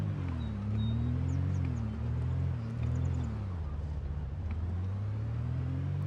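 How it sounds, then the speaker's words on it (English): A car engine in a video game drones loudly and close, a low humming rumble whose pitch wavers up and down as it drives on, with no talk over it. "why'd the car get so loud all of a sudden?"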